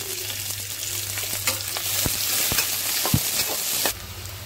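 Onions fry in hot oil with bay leaves, a loud, dense sizzle up close with several sharp spatula taps and scrapes, easing off abruptly near the end.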